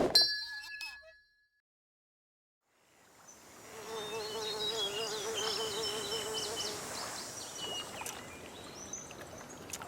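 Flies buzzing steadily in a cartoon scene, with a few clinks and short noises before a brief silence, then the droning hum of insects fills the rest.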